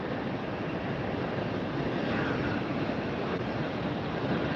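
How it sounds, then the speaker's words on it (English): A Delta Boeing 757-200 airliner at Tampa airport on a windy day, its engines giving a steady, loud broadband roar mixed with wind throughout. "Getting a good look right now at a Delta 757"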